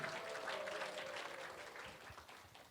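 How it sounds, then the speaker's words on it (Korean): Applause from an audience at a Gwangju-Jeonnam science and technology forum evening, greeting a university president: a fairly faint, steady wash of many hands clapping over about three seconds, with a faint sustained tone beneath. "여러분들 다시 한번 우리 총장님께 뜨거운 박수와 함성 부탁드리겠습니다."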